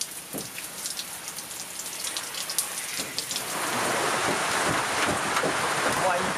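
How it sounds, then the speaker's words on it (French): Steady evening rain pattering on a surface, light and scattered at first, then swelling into a dense, constant hiss of falling drops about halfway through, heard alone and fairly close. "Oh, il pleut ce soir."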